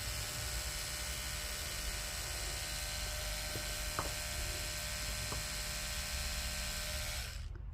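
An electric toothbrush, switched on near a pony, gives a faint, steady electric buzz that drones continuously and then cuts off at the end, with no voices.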